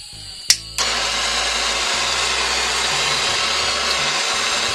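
A wood lathe turning a sycamore bowl whirs at its slowest belt speed, about 70 rpm; a sharp click starts a steady motor hum and broadband whirr that continues alone.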